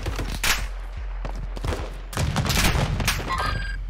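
Rapid gunfire and explosive bursts in Call of Duty Modern Warfare II crackle loud and close, with a grenade launcher thumping amid the shooting.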